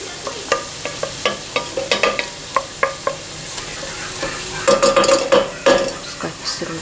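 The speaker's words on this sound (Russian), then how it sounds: "И сейчас пассируем вместе с мяском, с грибочками, которые я уже выложила сюда из сковороды." Onion sautéing in a pot with meat and mushrooms for a mushroom solyanka soup, with a utensil scraping and tapping the pot in irregular close knocks over a steady gentle sizzle.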